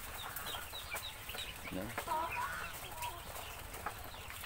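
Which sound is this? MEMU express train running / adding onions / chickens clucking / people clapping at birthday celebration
chickens clucking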